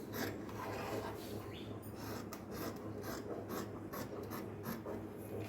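Quiet, rasping scissor cuts through blouse fabric, a steady stream of close snips and rustles over a low background hum.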